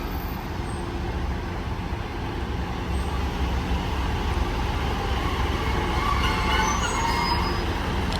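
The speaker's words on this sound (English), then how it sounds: "Train now departing is a 150 going to, I think, to Leeds." A Class 150 diesel passenger train's low rumble and engine drone, gradually building as it pulls away from a station, with steady mechanical noise and faint high squeals near the end.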